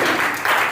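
A classroom of children applauding, a brief burst of dense clapping that holds steady for under a second.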